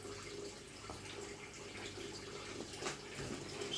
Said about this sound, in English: Sorry, I've got this tap going.